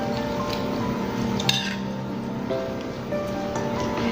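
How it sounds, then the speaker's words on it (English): Green beans, cranberries and almonds tossed together in a bowl, giving a steady rustling swish with faint clinks of utensils against the dish and one brief louder clatter. "And first we're going to just mix this all together, guys."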